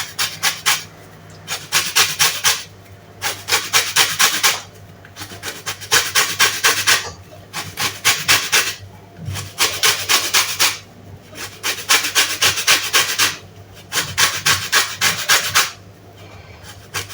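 Lemon zest grated for miguelitos pastry cream: steady, close rasping strokes in short repeated bursts with brief pauses between them, and no talking.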